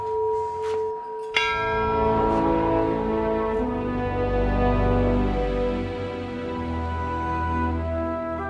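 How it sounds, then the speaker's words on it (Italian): A church bell rung by hand at Marostica, Italy, during the chess game festival, struck once and then left ringing in a long, loud, sustained hum that slowly fades, with no voices over it. "E Susi, per ritornare a Marostica bisogna fare il rito, suonare la campana."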